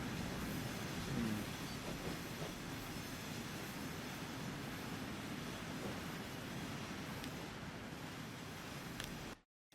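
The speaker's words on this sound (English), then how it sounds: "I think that silver train's actually too short for what it needs to be." A freight train rolls along in the video game Transport Fever 2, producing a steady rumbling wash of wheels and rail noise that continues evenly before cutting off abruptly near the end.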